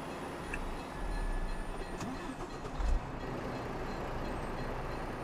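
A heavy truck-like engine idles with a low rumble, a brief louder surge near the middle, and faint mechanical clanks, from a Chevrolet Tahoe starting up in the video game American Truck Simulator.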